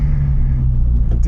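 Toyota GR86 fitted with a loud aftermarket exhaust, rumbling steadily and deeply from inside the car while driving, a close, loud, continuous drone with no voices.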